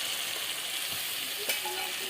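Ginger dropped into a pan of well-fried onions in hot oil while cooking chicken kosha, a bright steady sizzle close by, with a faint scrape of stirring.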